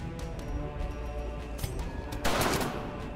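Gunfire in the turn-based dungeon game Darkest Dungeon, a dense burst of game combat noise with a louder crash of impact near the end, heard up close without talk.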